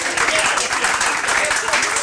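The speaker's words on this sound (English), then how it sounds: "give them a big round of applause, please" A crowd claps at a groundbreaking ceremony for a steam plant, producing dense, steady applause that holds at full strength throughout.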